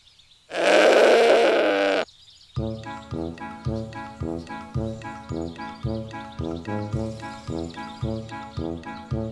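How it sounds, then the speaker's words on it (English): Animated goat herd in a meadow: a long loud bleat opens, then a steady series of rhythmic, evenly spaced bleats repeats close by with no talking. "Here's our animated goat herd, sharing friendly bleats and enjoying the meadow together."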